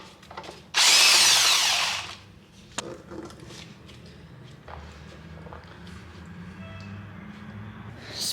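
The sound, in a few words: power tool removing a single turbo kit from a BMW 335i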